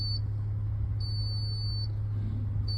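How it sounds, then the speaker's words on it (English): A steady high-pitched electronic beep from a 2017 Toyota Sienna wheelchair-accessible conversion sounds continuously, cutting off briefly at intervals, over a low engine-like hum. "There's going to be a solid beep for about 10 seconds."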